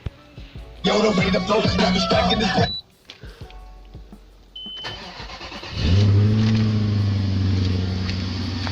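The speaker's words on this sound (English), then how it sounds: "Running the car." A Nissan President's engine starts up and settles into a steady, loud idle during a coolant flush, following a burst of clattering noise and a quiet pause.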